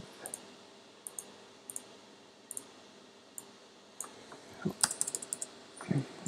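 A computer keyboard is typed on in a quiet room, giving soft, scattered key clicks in small clusters with irregular gaps, ending in a slightly busier run of taps.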